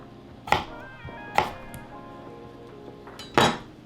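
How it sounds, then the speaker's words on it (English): A knife cuts red Bliss potatoes on a board, giving three sharp, separate knocks spaced over a few seconds against a quiet background hum. "Now I'm going to cut these potatoes in half."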